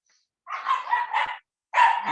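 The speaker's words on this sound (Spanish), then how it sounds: "Esperen un momentico que están matando a un perrito del vecino" A neighbor's small dog barks and yelps in an agitated burst of three or four close, loud cries, a short pause, then another sharp bark, with no one talking over it.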